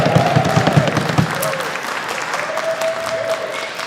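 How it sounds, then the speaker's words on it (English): Mourners at a memorial service give a round of applause, a close, full patter of many hands clapping steadily, with a few voices and cheers rising briefly through it. "Round of applause for Essie"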